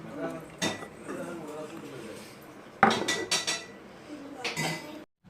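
A banana rice flour cake is moved onto a plate, with close clinks and scrapes of a metal pan and utensils in a few scattered bursts, while a person talks quietly underneath.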